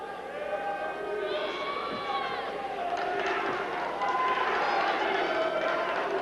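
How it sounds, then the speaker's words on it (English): A crowd at a WEF 9 mixed martial arts fight in May 2000 cheers and shouts, urging on Matt Hughes in a sustained, fairly loud roar, with no clear talk over it. "the crowd behind urging on Matt Hughes"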